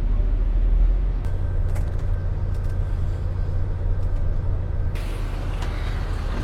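Diesel buses rumble and idle at the Pulau Gebang integrated bus terminal in Jakarta, heard from aboard an Agra Mas sleeper bus, with a low engine drone throughout and a sharp burst of air-brake hiss near the end.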